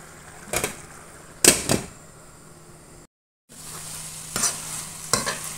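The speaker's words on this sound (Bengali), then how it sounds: "একদম ভাজা ভাজা করব," Green chili, cumin and chopped coriander are stir-fried in a pan, heard as a few sharp scraping strokes and brief sizzling bursts separated by quiet gaps, with a short full silence midway.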